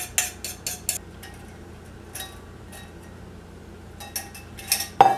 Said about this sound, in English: I'm gonna just gently stir those in to the butter and chocolate